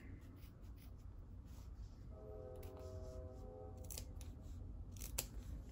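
Fabric being cut with scissors while sewing a garment, a run of quiet, repeated snips and crisp blade closures close to the mic over a low room hum, with no talking.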